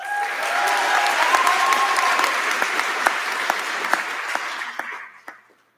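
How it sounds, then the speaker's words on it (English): Audience applause for the graduating class of 2022 at a high school commencement ceremony, steady dense clapping from a large crowd that carries on for several seconds and then fades out. "Let's give them a round of applause."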